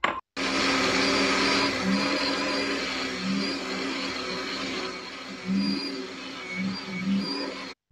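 Blender mixing apple basbousa batter of butter or ghee and milk powder, with a steady loud motor whir that rises and dips slightly as the load changes, ending abruptly.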